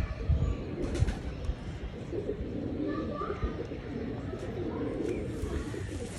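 Pigeons coo softly among flying and tournament birds, low repeated coos under a steady background murmur, with someone talking nearby.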